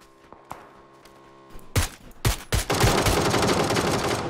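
Gunfire in PUBG: a few sharp single shots ring out, then a close, loud sustained burst of rapid fire that continues to the end.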